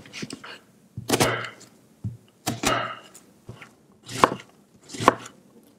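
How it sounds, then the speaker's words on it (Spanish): A knife cuts an onion on a board in a few separate bursts of chopping, each a short run of crisp thunks followed by a pause, close and fairly loud. "Cortamos finamente la cebolla."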